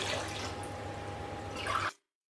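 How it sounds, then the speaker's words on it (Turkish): Water being poured into a pot of sugar and a lemon slice for syrup, a steady near liquid splash and trickle running for about two seconds before stopping abruptly into silence. "Ve 4 su bardağı suyumu ekliyorum."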